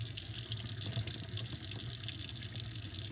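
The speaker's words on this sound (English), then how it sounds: "the quickest, easiest way to clean the brush is to just turn your water on." Tap water runs steadily into a sink while a paint brush is rinsed under it, a soft continuous splashing flow with faint dripping and no talk.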